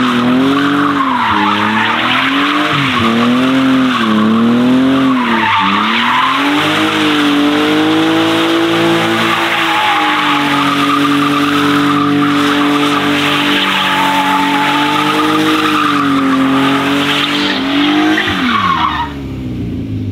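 Tyres of a BMW E36 squealing and skidding in a long, loud, wavering screech, with engine noise underneath, rising and falling in pitch for nearly twenty seconds.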